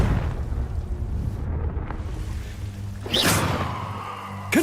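A Confringo fire spell blasts in Hogwarts Legacy: a rumbling explosive burst with crackling debris, then a sharper second whoosh-and-boom near the end over low ambient game noise.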